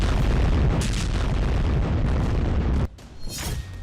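Heavy explosions and rumbling blasts in war-torn Gaza, a dense, loud, continuous roar that cuts off sharply, followed by a quieter burst and distant rumble.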